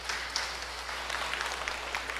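Applause from a concert audience at a drift-themed music show, a dense continuous wash of many hands clapping, spread out and steady, with no voices standing out.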